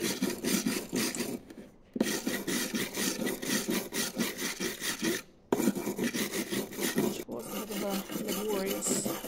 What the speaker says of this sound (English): this one just needed a brush with the steel brush to get all the build-up of aluminium off it